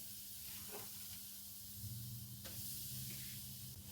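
Besan (gram flour) roasting in hot oil for gond ladoo gives off a steady, even sizzle and hiss that continues without a break, with no voices over it.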